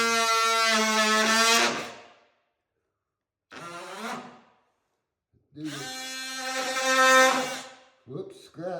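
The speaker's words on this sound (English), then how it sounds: "So now we'll take the oscillating tool." A cordless oscillating multi-tool runs in loud, high-pitched buzzing bursts, roughly a two-second run, a shorter one and a longer one, cutting during a heat register installation, with silent gaps between.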